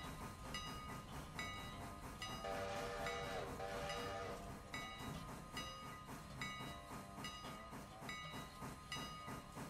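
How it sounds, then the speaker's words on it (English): A logging railroad train climbs a hill in the distance, a faint continuous rumble and hiss with a brief horn-like tone in the middle, heard softly behind background music. "Oh, and there's the next log train heading up the hill."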